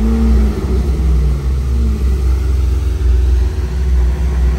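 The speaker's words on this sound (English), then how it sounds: "I put my foot on the brake and press the engine start" An Aston Martin V12 Speedster's 5.2-litre twin-turbocharged V12 fires up on a London street and settles into a deep, loud, close rumble, with rising revs and a strong low idle throughout, and no talking.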